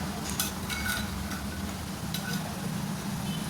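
Roasted khoa being stirred into cooked carrots for carrot halwa, a steady close scraping and stirring in a pan with a soft continuous sizzle and occasional utensil clinks, no voices.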